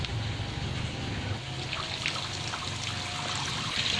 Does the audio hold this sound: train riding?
no